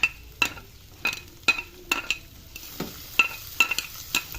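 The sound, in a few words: onion frying with garlic in a pan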